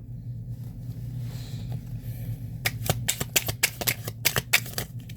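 Playing cards being shuffled close by, a quick burst of crisp riffling snaps and flutters over a low steady room hum, with no talking.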